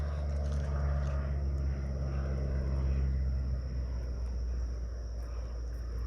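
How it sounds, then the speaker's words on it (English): A float plane passes overhead outdoors, its propeller engine a steady, moderately distant drone that slowly fades over several seconds, with no voices. "There's lots of float planes out here. This guy just flew overhead and he spun around."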